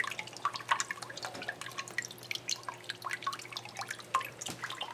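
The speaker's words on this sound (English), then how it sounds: "this is a big pot from a broken fountain, just bubbling water" Water bubbles and drips in a large pot taken from a broken indoor fountain, a close, irregular run of small plinks and trickles with a faint steady hum beneath.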